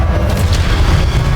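Casting the Expelliarmus spell in the video game Hogwarts Legacy gives a single loud, deep magical boom with a low rumbling body, heard up close and alone.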